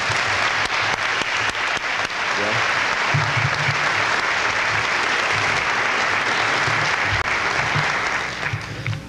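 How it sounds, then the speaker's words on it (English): An audience at a performing arts center dedication gives a long, steady round of applause as a guest comes up to the stage, dense clapping holding evenly before tapering near the end. "Let's give Mr. Kimball a nice round of applause as he comes up here."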